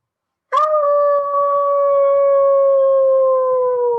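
A single long, steady howl rises abruptly and holds a clear tone, sliding slightly lower as it fades, heard alone against quiet with no talking.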